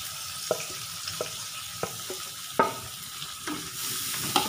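Grated coconut being stirred and sautéed in a pan while making a Kadpuravalli chutney: scattered spatula scrapes over a steady, soft sizzle, with no talking.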